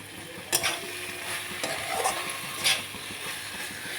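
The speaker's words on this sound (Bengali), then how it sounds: "এবার নাড়িয়ে দেবো" Food fries in a pan with oil, mustard and coriander leaves while a spoon stirs it: a steady close sizzle runs throughout, with a few sharper scrapes and no voices.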